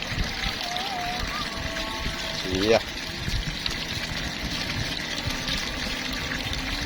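Water runs from a bore well pipe during well drilling, with the flow somewhat weakened. It makes a constant rushing splash, and people talk close by throughout.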